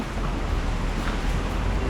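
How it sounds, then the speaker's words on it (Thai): A small stream flows near a cafe and lodging in Mae Kampong, a steady broadband rush of water heard close with wind-like hiss and no pauses. "ตรงนี้มีลำธารเล็กๆเห็นไหมทุกคนเห็นไหม"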